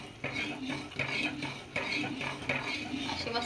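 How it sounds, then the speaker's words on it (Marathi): A spoon stirs Maharashtrian dhaba-style buttermilk kadhi in a pot, steady rhythmic scraping strokes repeating about every second, close and clear over a soft bubbling simmer. "अशी मस्त ढवळत राहायची चमच्याने तिला"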